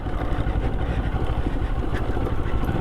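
Moto Morini adventure motorcycle on a rough off-road trail, its engine running steadily close by with a deep, even thumping drone and no pauses.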